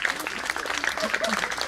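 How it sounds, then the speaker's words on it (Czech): An audience at a church performance of The Little Prince claps loudly, a dense patter of many hands, with voices speaking over the applause. "Tleskejte pořádně."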